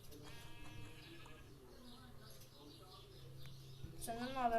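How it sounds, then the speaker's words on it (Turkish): In Minecraft, a few faint bleats sound in the distance, then a louder, wavering sheep bleat close by at the end, over a quiet background. "Ha, şurada bir tane daha koyun var."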